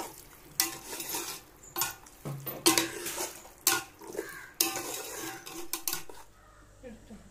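Beef roast being stirred in a pot, a crackling sizzle punctuated by loud metallic scrapes and clanks of the spoon against the pot at irregular intervals.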